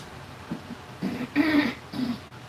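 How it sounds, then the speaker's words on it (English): A few short, rough throat-clearing grunts in quick succession, close and moderately loud, building to one stronger rasping clear before trailing off. "I'm just clearing my throat though."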